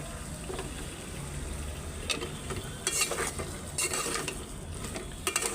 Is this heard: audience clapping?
no